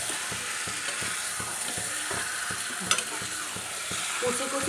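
Egg curry with potato fries in a pan as a spatula scrapes in a quick, regular rhythm over a continuous close sizzle, one brief louder clack midway.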